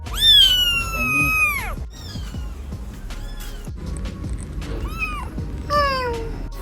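Kittens meow loudly and close by, three are present in a home kitchen: a long drawn-out cry followed by two shorter meows, with faint background talk and noise.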